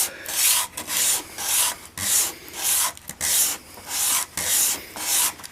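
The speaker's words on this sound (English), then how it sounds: "take it to some sandpaper" A wooden pen blank with a Celtic knot inlay is rubbed back and forth on sandpaper in steady push-pull strokes, eight or so close, even scratchy swishes in a regular rhythm with brief gaps between them.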